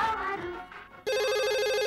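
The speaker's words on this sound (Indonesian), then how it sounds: "Suara telepon kan?" An electronic telephone ringtone sounds, a short musical phrase ending, then a louder, sustained warbling ring starting abruptly and continuing steadily.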